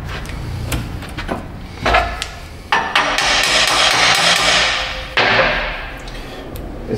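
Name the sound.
hammer tapping metal basket frame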